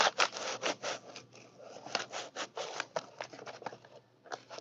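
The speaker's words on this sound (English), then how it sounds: "this is a resealable bag" Resealable plastic bag being pulled open, a series of quick, close rasping zipper-like snaps and crinkles at low volume.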